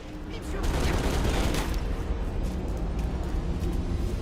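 Sustained, dense gunfire roars from a video game, a loud continuous barrage with no clear gaps between shots and no break for the whole stretch.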